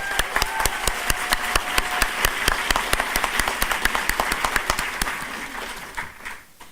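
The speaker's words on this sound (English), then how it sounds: "Can we please give them a round of applause?" A crowd at a law school graduation commencement claps steadily, the dense, rapid applause fading toward the end.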